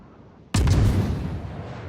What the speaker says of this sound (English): Of course, the Wyoming is looking right at us, so here come the shots.